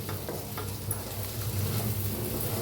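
Stuffed bell peppers fry in oil in a pan and are stirred, giving a steady close sizzle with soft scraping and a low background hum.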